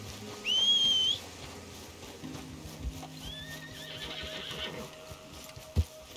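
Horse in the Red Dead Redemption 2 video game gives a loud, clear whinny near the start, then a fainter second neigh, over steady game ambience with a sharp thud near the end.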